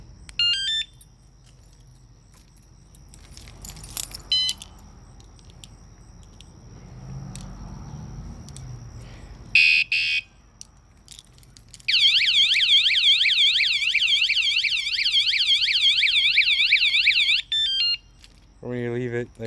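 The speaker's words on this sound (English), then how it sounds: "And then underneath that is your car alarm." A car alarm fitted to a motorized bicycle cycles through its tones: short chirps and beeps, then a long loud warbling siren sweeping up and down, ending with more chirps, with faint talk early on.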